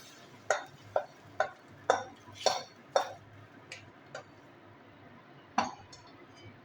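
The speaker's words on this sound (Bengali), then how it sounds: "তো এবার আমি ফোড়নটা দিয়ে দিচ্ছি ডালের মধ্যে।" Spoon or ladle clinks sharply against a metal pot as tempering (phoron) goes into vegetarian moong lentil dal, about nine distinct taps in an irregular rhythm over a quiet kitchen background, close and fairly loud.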